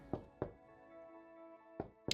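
Four knocks on a door, two close together, a pause, then two more, sharp and fairly close over a soft steady background hum.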